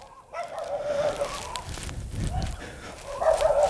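A dog, a female newly bathed and meeting a household, gives a few short barks and yips close by in a room, with low background noise throughout.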